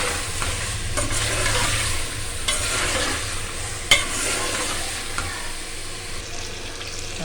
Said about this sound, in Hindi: अब इसमें हम गोश्त ऐड करेंगे ताकि मसाले का टेस्ट जो है ना गोश्त के अंदर आ जाए और अच्छी तरह हम इसको फ्राई कर लेंगे